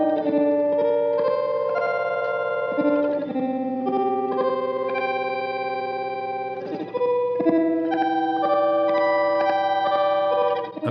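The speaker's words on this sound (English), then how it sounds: "I've tweaked ice mode even more to make it sound less like a harmonizer and more like its own thing." An electric guitar runs through a Strymon TimeLine delay pedal in ice mode, producing sustained, shimmering, synth-like notes with glitchy, pitch-shifted echoes layered over each other, loud and close with no talking.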